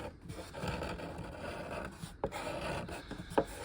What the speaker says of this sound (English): I'm going to use the scraper to make sure